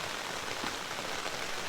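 Steady rain falling on a campsite, a continuous close hiss of drops on surfaces with no gaps and no voices.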